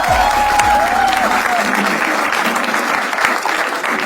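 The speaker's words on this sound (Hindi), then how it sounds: "तो शुरू करते हैं तालियों के साथ." A stand-up comedy audience breaks into loud applause as a game segment begins, a full continuous roar of clapping with crowd noise and a brief whistle near the start.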